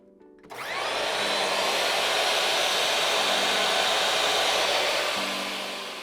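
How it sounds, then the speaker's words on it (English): Table saw powered by a battery backup generator spins up after a brief quiet start, holding a loud steady whine for several seconds before starting to wind down near the end, with no talking. "First test, table saw."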